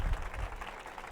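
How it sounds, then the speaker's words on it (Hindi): Audience applause follows a call for loud clapping for a guest at a political speech in Madhya Pradesh, a brief dense burst of hand claps that stays fairly even and fades slightly over about a second. "एक बार जोरदार तालियां"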